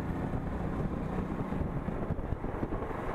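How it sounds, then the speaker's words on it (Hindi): Cold wind blows steadily outdoors in a green hill area near Karanprayag, a broad continuous rush buffeting the microphone with no break, loud and close. "ठंडी हवा चल रही है"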